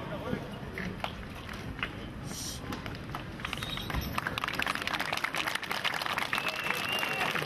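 A crowd applauds at an Easter address by the Metropolitan of Corinth, steady clapping that swells and grows denser in the second half, with a voice heard alongside.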